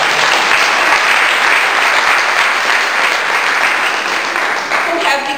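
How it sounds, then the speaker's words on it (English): Loud, sustained clapping from a large audience at a Black History celebration honoring Staten Island community leaders, a dense steady roar running the full length and tapering only slightly at the end. "I think you should clap."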